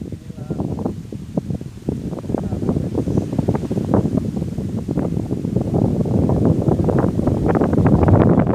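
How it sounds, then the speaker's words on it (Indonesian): Strong wind buffets the microphone on a hiking trail, a steady loud rumbling roar with gusts that grow stronger toward the end. "Angin kuat guys."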